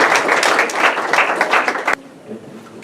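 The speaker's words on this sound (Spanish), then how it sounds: "Damos otro fuerte aplauso al Señor." Congregation in church giving loud, dense applause that rolls steadily for about two seconds and then stops abruptly, leaving faint room noise.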